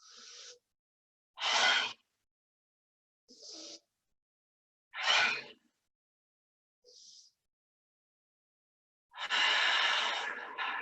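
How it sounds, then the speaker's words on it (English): Slow deep breaths in a calm meditation setting, each inhale or exhale a soft airy rush separated by long silent pauses, about six breaths, close and quiet, no speech. "Deep breaths here"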